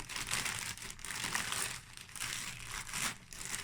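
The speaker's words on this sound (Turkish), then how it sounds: "Şimdi böyle taze kadayıf kullanacağım. Kadayıfımı açıyorum." Fresh kadayif pastry opened and pulled apart by hand, producing soft continuous crinkling and rustling close up, in uneven swells with brief pauses.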